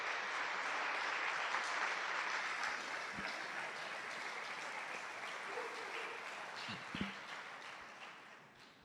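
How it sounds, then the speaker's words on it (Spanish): A church congregation claps for Jesus in a broad, steady wash of applause heard from a distance, slowly tapering toward the end. "¿Cuántos le ponen un aplauso a Jesús el día de hoy?"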